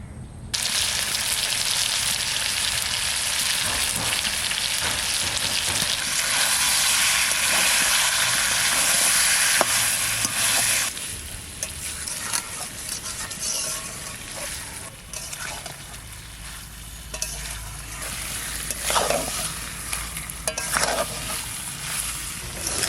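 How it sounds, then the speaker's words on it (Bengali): Chicken curry is stir-fried in a pan for a Bengali puja-special dish, giving a loud, continuous sizzle for the first half. It then drops to a quieter frying hiss with scattered clinks and scrapes. "এবার শুধু কষাতে হবে কষাতে হবে"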